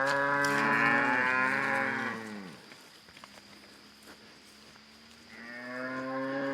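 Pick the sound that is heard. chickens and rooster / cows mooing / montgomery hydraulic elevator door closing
cows mooing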